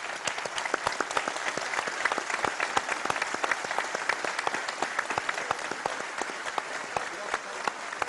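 Studio audience at a live Turkish television debate show claps steadily, a sharp, rhythmic patter of many hands sustained for several seconds at a moderate level, with no voices clearly rising above it.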